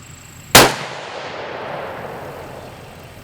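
A single sharp, loud rifle shot from a 6.5 Creedmoor with a Brux barrel, Manners stock and Nightforce scope, firing a Hornady American Whitetail 129 grain Interlock round, followed by a long fading echo with no talk.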